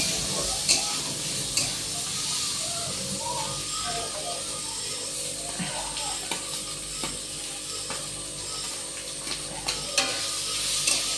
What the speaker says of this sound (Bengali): একটু পোলাওটা ঝরঝরি হওয়ার জন্য একটু সাদা তেলে আমি নাড়াচাড়া করে নিলাম